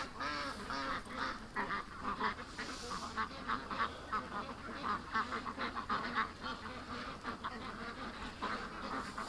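Ducks quack repeatedly in a rhythmic, close chorus of nasal calls that carries on throughout, over low outdoor background noise.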